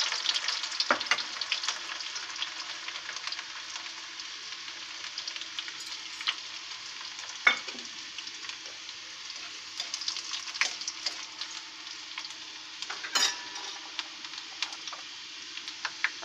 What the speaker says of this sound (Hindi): एक चम्मच जीरा ऐड करेंगे, एक चम्मच मेथी दाना ऐड करेंगे, अब हम इसमें लहसुन ऐड कर रहे हैं